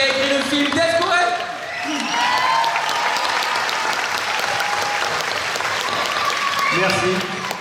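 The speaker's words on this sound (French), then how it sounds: "Vous pouvez également applaudir celui qui a écrit le film, Death Corel." Theatre audience at the Grand Rex in Paris applauding the film's writer at an Alad'2 premiere, a loud, dense, sustained wash of clapping with cheers and musical voices mixed in, lasting throughout.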